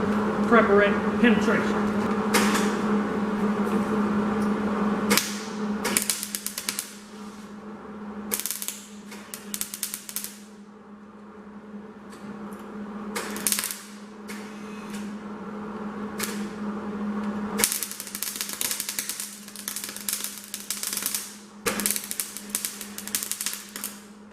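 Metal welded on a rat rod in a hot rod shop, with intermittent bursts of crackling, buzzing arc noise separated by short pauses.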